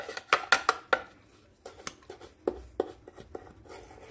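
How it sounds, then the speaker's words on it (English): A spoon mashes down thick homemade jalapeno banana ice cream in a container, giving a series of close, sharp scraping clacks and taps, clustered early and then spaced out, with no talking. "you gotta like use the spoon here and mash it down, to make sure it all mixes up good."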